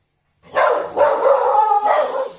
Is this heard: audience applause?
no